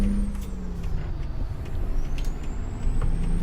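A double-trailer truck in American Truck Simulator pulling away in low gear, a steady close diesel rumble with a rising engine whine and faint high tones above it.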